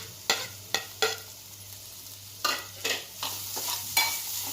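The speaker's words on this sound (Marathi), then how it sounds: "आता ह्याला व्यवस्थित हलवून घेऊया" Beetroot sabzi with coconut and coriander is stirred in a pan, with a sequence of distinct scraping strokes of the spoon, some quick and some spaced apart, over a quiet low hum and faint sizzle.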